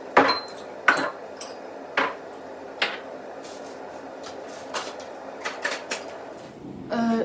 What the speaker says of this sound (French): je vais mettre la vaisselle dans le lave-vaisselle